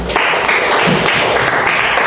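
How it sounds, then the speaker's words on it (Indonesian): A ninth-grade science class gives a short, loud burst of clapping lasting about two seconds, heard close with no talking. "Oke, bagus, tepuk tangan."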